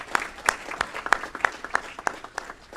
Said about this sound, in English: Let's give Steve a round of applause along with Atifa.